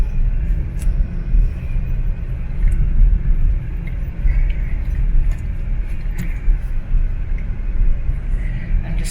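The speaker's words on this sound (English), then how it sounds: "I'm just slowly driving." A car rolls slowly through the streets of Madridejos, its low steady engine rumble and road noise close and continuous, with faint rattles and clicks from inside the cabin.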